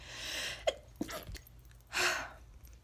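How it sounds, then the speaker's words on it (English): A single sharp sneeze bursts out near the mic around two seconds in, preceded by small breathy clicks and sniffs in an otherwise quiet room. "I gotta sneeze again."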